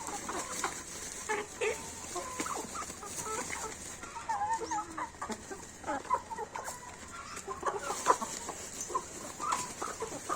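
Shamo hens cluck and murmur at morning feeding time on a small farm, soft, irregular calls scattered over a steady hiss of background noise, moderately distant and fairly quiet.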